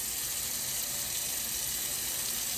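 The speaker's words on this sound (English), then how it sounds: "I'm just going to rinse this chicken in this vinegar" Chicken is rinsed in vinegar under a running tap, producing a steady, close hiss of flowing water throughout with no pauses.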